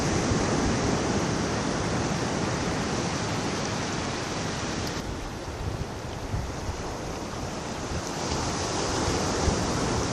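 Steady broadband rush of a small stream swollen by rain, near the mouth of the Rivière des Galets on Réunion, dense and continuous with a slight dip midway, no voices.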